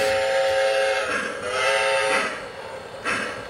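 A Lionel model train set sounds its steam whistle, a loud sustained chord with harmonic tones that holds and swells, trailing off and briefly sounding again near the end, alone without talk.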